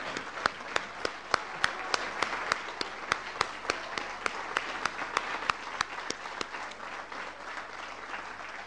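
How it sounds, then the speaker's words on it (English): A large audience gives a sustained round of applause for an alumni engagement team and student volunteers, with dense continuous clapping and sharp individual claps cutting through, holding steady for the whole stretch before easing slightly near the end. "I think they deserve a long round of applause"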